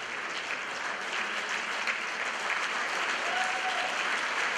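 Steady, dense applause from an audience for an award winner at a ceremony, a continuous even roar of clapping with no talk over it.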